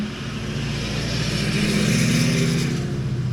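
A neighbor's car drives past, its engine note building steadily as it approaches and holding loud and near toward the end, with no talking.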